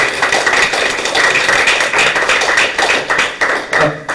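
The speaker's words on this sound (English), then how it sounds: "can we have another round of applause for incredibly knowledgeable, incredibly numerous, especially Dr. Khadar Valli" Audience applause fills the room at a talk by Dr. Khadar Valli at the Consulate General of India in Houston, steady loud clapping throughout with no speech.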